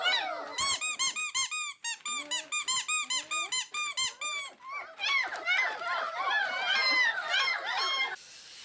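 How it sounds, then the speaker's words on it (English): A puppy chews its first squeaky toy, producing rapid runs of sharp, loud squeaks close by, then a denser, wavering stretch of squeaking before it stops. "Puppy's first squeaky toy."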